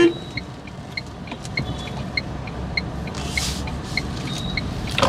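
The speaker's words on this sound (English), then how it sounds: "It's very effortless to take a sharp U-turn with this vehicle." A Tata Tiago EV makes a sharp U-turn in city traffic, giving a low steady road rumble with a faint electric whine, distant traffic noise and periodic soft beeps around it.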